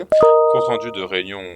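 Short electronic ringtone tones sound from a phone during a French-language recording, a few steady beeping notes that ring under a man's continuing speech.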